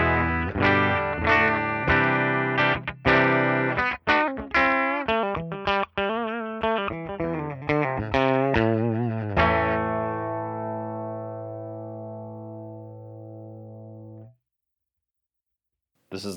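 An EVH SA-126 electric guitar played clean on the bridge pickup: a run of plucked notes and chords, then a final chord left to ring out and fade before silence.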